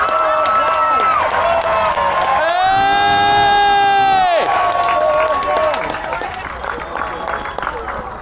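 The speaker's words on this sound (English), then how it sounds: "Slightly partisan crowd here" Crowd cheering and whooping at the F1 British Grand Prix at Silverstone, a dense roar of many voices with a sustained siren-like horn tone in the middle, and a voice talking over it.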